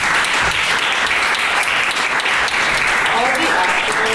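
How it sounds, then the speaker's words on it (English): Theatre audience applauding at the close of the fourth act of a play, a dense steady wash of clapping that stays loud and even throughout, with faint voices underneath. "The public applauds."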